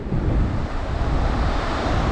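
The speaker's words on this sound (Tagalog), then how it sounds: "Lakas ng alon." Strong ocean waves roar steadily up close at a beach resort in Dingalan, a dense continuous wash of surf with wind rumbling over the microphone and no voices.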